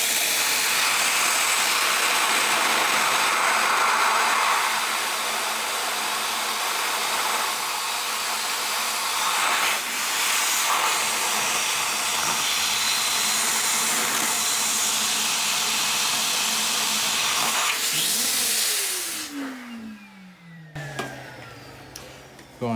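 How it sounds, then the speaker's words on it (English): Shop vacuum sucking water out of a Honda XR250L RFVC engine, a loud steady roaring hiss for about nineteen seconds that then winds down with a falling whine as the motor shuts off. "Okay, so I got my vacuum hooked up."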